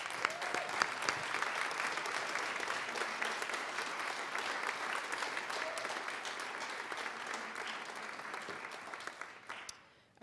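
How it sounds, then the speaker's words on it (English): Sustained applause for the finalists of a venture fund pitch competition fills the hall with dense, steady clapping that fades out near the end. "how about we give one more round of applause to all of tonight's finalists."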